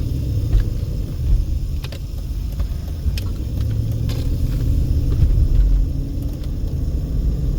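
Steady road traffic noise on Eastern Avenue in Las Vegas, a continuous low rumble of passing cars with no break, fairly loud throughout.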